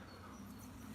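Bees buzz around a hole in the ground on an outdoor walk, a faint, continuous drone with no talking.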